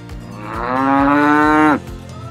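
A single loud, drawn-out moo from a cow swells, holds for over a second and breaks off, close to the listener, with faint rhythmic thumps in the background.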